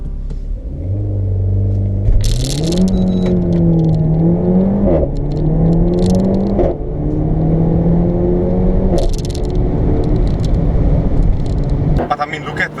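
A Renault Megane 280 RS with four-wheel steer pulls away under launch control, its engine note climbing steadily in pitch and stepping through upshifts, loud and close throughout, with the high-revving tone holding from start to finish.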